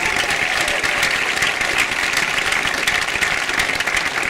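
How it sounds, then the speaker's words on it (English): Loud, steady applause from the audience at a high school graduation ceremony, many hands clapping evenly and continuously throughout. "A round of applause."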